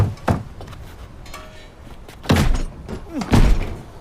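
Heavy thuds bang against a door from someone demanding to be let in, a few loud, booming impacts spaced irregularly over a few seconds amid dull background rumble.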